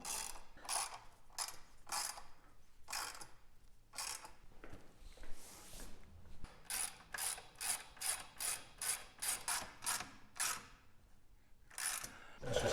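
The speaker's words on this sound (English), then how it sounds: "Okay, so I'm just gonna come in and snug each one of these down." A ratchet wrench tightens crash bar fasteners on an Aprilia Tuareg 660, quick bursts of close clicking repeated in groups with short pauses between.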